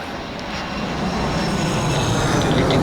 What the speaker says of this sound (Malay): Banyak kat sini kapal terbang guys.